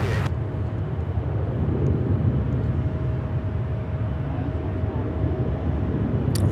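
A Boeing 777 airliner arriving from London Heathrow at Charlotte Douglas airport, heard as a steady, broad engine roar that holds loud and constant throughout, with a faint thin whine running underneath.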